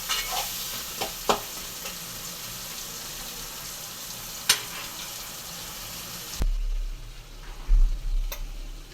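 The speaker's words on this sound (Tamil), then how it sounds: "தக்காளி நல்லா வேகட்டும்" Tomatoes and onions sizzle steadily in a pan for a mutton intestine curry, with occasional sharp clinks of a spoon stirring against the metal and a few louder scrapes near the end.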